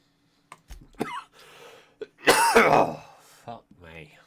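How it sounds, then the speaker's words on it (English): A person coughs and clears their throat, with a few short sharp hacks followed by one louder, longer coughing fit, close up, with a little speech between the coughs. "Sorry about the coughing"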